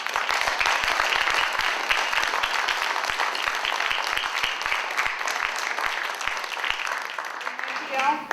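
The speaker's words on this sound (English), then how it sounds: "give a huge round of applause" An audience at a Haida and Tsimshian community gathering gives a sustained round of applause, even and fairly close, with a voice speaking over the clapping throughout.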